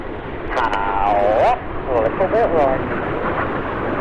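A Red Arrows BAE Hawk T2 jet flies past at the English Riviera Airshow 2025, a broad, steady roar that swells and holds throughout while a commentator talks over it.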